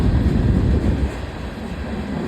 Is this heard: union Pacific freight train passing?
yes